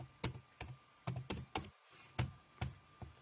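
Typing on a computer keyboard into the Windows search box, a series of distinct close keystrokes in uneven rhythm, about a dozen clicks with short pauses, quiet and with no voices.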